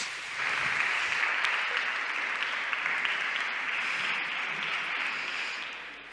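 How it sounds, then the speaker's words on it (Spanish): An audience claps warmly to welcome a speaker at a conference talk, a steady wash of many hands sustained for several seconds and tapering slightly at the end, with no talk over it. "Bienvenida y le damos un fuerte aplauso."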